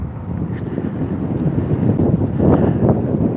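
Steady wind rushing over a microphone during an open-air ride on a chilly day, a broad continuous low roar that swells slightly near the end, with no talking.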